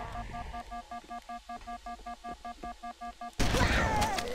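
In Halo: Combat Evolved, a grenade bursts into a loud, noisy explosion that cuts off a run of evenly spaced electronic beeps and lingers as a rumbling roar.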